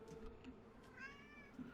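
A cat meows faintly in the background, with a short mewing call rising briefly amid quiet room sound.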